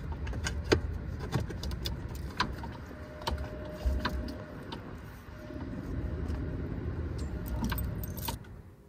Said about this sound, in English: These keys live in such a special place on the boat.